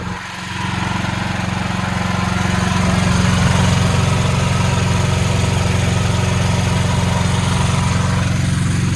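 A standby generator engine drones steadily and loudly with a low rumbling hum during a weekly test under a large heating load, running continuously close by indoors with no voices.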